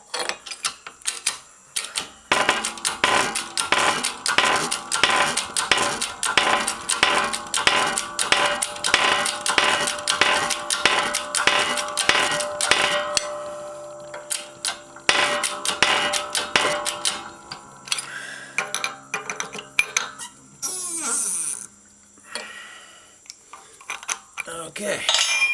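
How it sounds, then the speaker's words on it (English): A new bearing is pressed onto an axle with a homemade press tool, giving rapid metallic clicking and ratcheting taps in long bursts, then sparser clanks and knocks, close and fairly loud. "and that new bearing is on. It's pressed against the axle very nicely"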